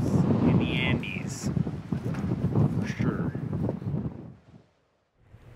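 Wind blowing in the Andes, heard as a loud, steady rumble and buffeting against the microphone that runs for several seconds before dropping away into near silence at the end.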